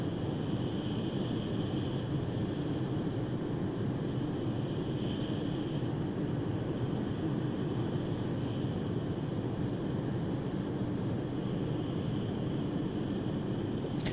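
A small sport plane, not a turboprop, passes overhead with a steady, even drone that holds for the whole stretch without fading or talk.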